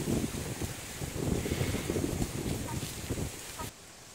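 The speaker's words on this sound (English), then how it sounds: "it is windy today" Wind gusts buffet the microphone in an outdoor backyard, producing a steady, rumbling roar that fluctuates throughout before suddenly dropping away near the end.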